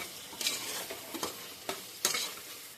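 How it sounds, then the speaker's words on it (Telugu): A spoon stirs yogurt and garam masala into a pan of Tirupati-style kushka rice over a gentle sizzle, with several scraping strokes at an uneven pace, close and fairly quiet. "పెరుగు వేసుకొని బాగా కలిపేద్దాము"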